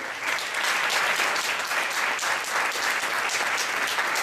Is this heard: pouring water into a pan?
no